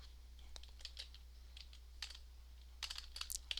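Quick, irregular keystrokes click on a computer keyboard, soft and close, over a low steady electrical hum.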